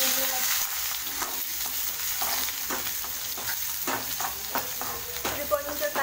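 Brinjal sautéing in a pan for a kaara chutney, with a steady close sizzle and repeated stirring scrapes, a dozen or so spoon strokes, and no talking.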